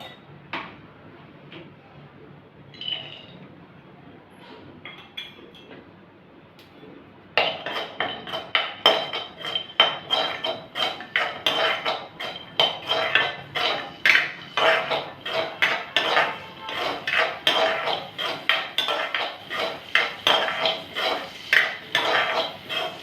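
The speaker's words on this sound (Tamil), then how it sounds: "முதல்ல முந்திரி பருப்பு வறுத்து எடுத்துக்கலாம்." Cashew nuts roast in ghee in a pan while a metal spoon stirs and taps against it, giving close, rhythmic clinks and scrapes that grow busier after a quiet start, with no talking.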